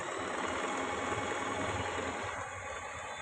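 A Butterfly sewing machine sews a straight stitch with a continuous close mechanical whir that eases slightly toward the end.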